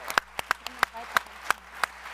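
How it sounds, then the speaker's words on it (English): Sparse, spaced handclaps from a conference audience as people are called up on stage, a few sharp claps about a third of a second apart over a low steady hum, with no dense crowd roar. "Anya Timoshenko, give them a round of applause"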